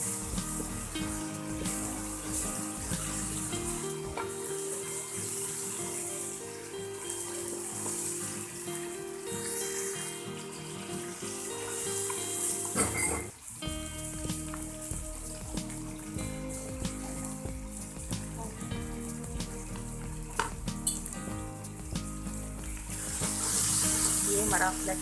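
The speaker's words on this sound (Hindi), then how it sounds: "हमारा लहसुन अदरक का पेस्ट से फ्राई हो रहा है।" Garlic ginger paste frying in a pan for a masala dish, a steady close sizzle lasting throughout with brief stirring clatter and a short pause midway.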